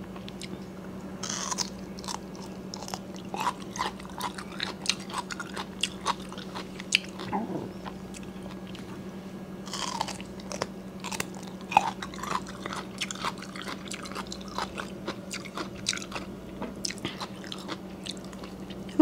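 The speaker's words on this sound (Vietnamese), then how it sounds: "Nghe giòn giòn là khán giả thích rồi đó" Boiled bamboo shoots dipped in shrimp salt are chewed with crisp, crunchy bites, a steady run of close, moderately loud crunches and bites with a low hum underneath and no talking.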